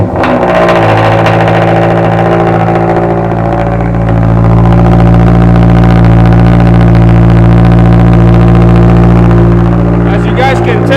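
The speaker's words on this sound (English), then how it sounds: "let's see how this thing sounds with the cold start" A Toyota GR86 engine on a cold start with the stock exhaust, a loud, steady, deep drone holding at a high idle throughout with slight swells, close by, with faint voices in the background.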